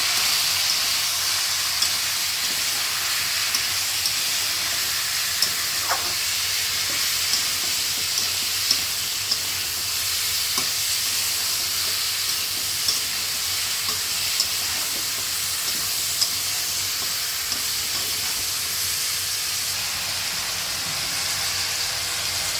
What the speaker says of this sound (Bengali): তারপর 1 টেবিল চামচের চেয়ে একটু বেশি লবণ ও 1 চা চামচ হলুদ গুঁড়া দিয়ে দিলাম। এবার ভালো করে নেড়ে চেড়ে নিচ্ছি।